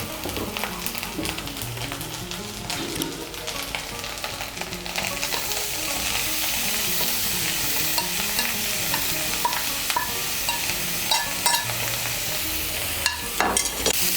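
Grated pointed gourd stirred into a spice paste frying in a pan for potoler dhokar dalna, a steady close sizzle under continuous scraping and stirring, no talking.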